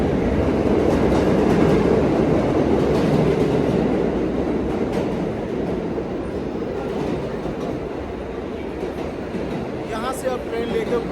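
Subway train rumbling and clattering through a New York metro station toward Brooklyn, a steady loud roar of wheels on rails with faint squeals, continuous for the whole stretch under light background voices.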